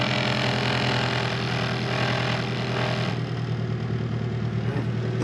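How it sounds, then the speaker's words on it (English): A Honda Civic engine idles steadily after a cold start, with a continuous low mechanical hum and light clatter throughout and no talking. "cold start idle"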